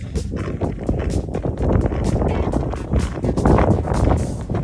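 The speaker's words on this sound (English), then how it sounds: "Windy out, snow's blowing." Steady wind gusting and buffeting outdoors on a snowy day with blowing snow, rumbling broadly with rising and falling surges, close and fairly loud, no voices.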